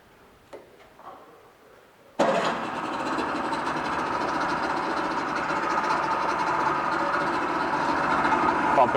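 A 1989 Yamaha 40hp two-stroke tiller outboard with a rebuilt carburetor starts after faint clicks, then runs at a steady, loud, buzzy idle that revs slightly high, continuing evenly to the end.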